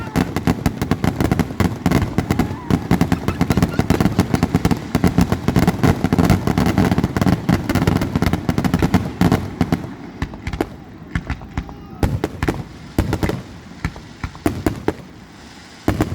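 A fireworks display bursts in a dense, loud barrage of rapid cracks and booms that carries on for several seconds, then thins to scattered, fainter pops and rumbles.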